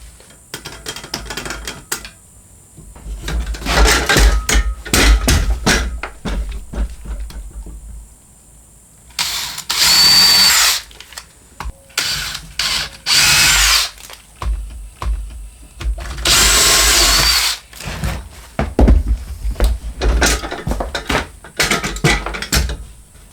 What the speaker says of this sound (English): get my lag bolts installed on the sides if I'm able